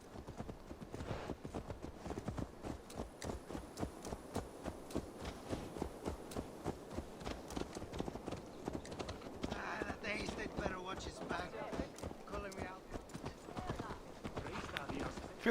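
Horse hooves clip-clop in a steady, close rhythm through Assassin's Creed Valhalla, continuing the whole time under game ambience and brief talk.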